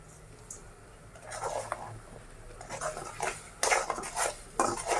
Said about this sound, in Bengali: আমি ভালোভাবে মশলাটারে কষাই মশলাটার গন্ধটা যাতে না থাকে কষাই নিব ভালোভাবে